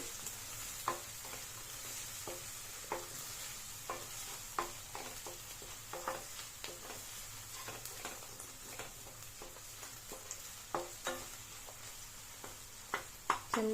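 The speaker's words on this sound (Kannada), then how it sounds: "ಚೆನ್ನಾಗಿ ಫ್ರೈ ಆಗಲಿ ಒಂದೆರಡರಿಂದ ಮೂರು ನಿಮಿಷ" Onion and tomato masala sizzles in a pan for egg curry, a soft continuous frying hiss broken by frequent irregular scrapes and taps of a spoon stirring, heard alone.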